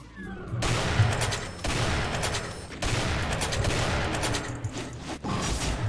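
Gunfire in the Doom mod Demonsteele, with dense bursts of rapid shots in three long volleys separated by brief gaps, close and loud.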